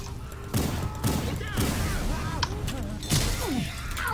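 Gunfire rings out in Left 4 Dead 2 from a gun loaded with incendiary ammo, several separate loud bursts of shots over busy game noise and whooshing effects.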